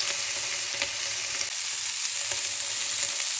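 Chicken wings frying in a pan without added oil, rendering their own fat, giving a steady close sizzle with faint crackles and a few light pops.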